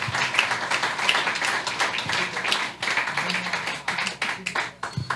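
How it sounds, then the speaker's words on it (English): An audience of about a hundred people at an education talk claps in a sustained round of applause, dense and fairly loud, tapering slightly near the end. "Let me get a round of applause"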